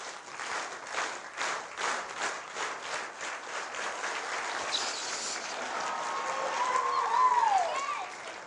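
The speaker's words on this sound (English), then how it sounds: "Once more. Clap." An audience claps together in a loose, rhythmic burst of applause that fades into scattered claps, with a voice speaking over the end.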